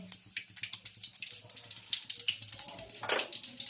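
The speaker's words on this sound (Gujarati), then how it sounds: "સરસ મજાનો વઘાર ચાલી રહ્યો છે." Tempering sizzles in hot oil for undhiyu, a mixed vegetable dish, making a loud, continuous crackle with dense spitting pops and no one talking.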